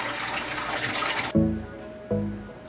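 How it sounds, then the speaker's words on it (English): Household water runs steadily from a shower in a loud, hissing rush, then cuts off abruptly, leaving low plumbing hums and a brief second surge of water. "I'm going to shower real quick."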